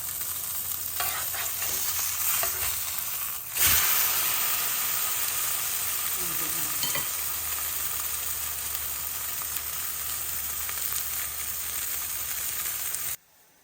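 Egg and eggplant sizzle and fry in a small amount of oil in a frying pan, a steady close crackling hiss with occasional stirring clatter and a brief louder burst partway through.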